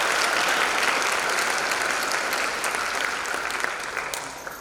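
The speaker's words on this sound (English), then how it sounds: "So if we give him a round of applause, please." Crowd applause at a jazz festival, a steady wash of clapping that gradually tapers off over a few seconds.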